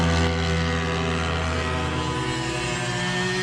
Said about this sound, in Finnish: Tuolla on nyt ilmajäähytteisten luokan ajo menossa.